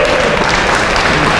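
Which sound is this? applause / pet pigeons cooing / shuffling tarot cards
applause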